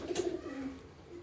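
Pigeons in a breeding loft give a brief soft coo, faint and close, with no talk.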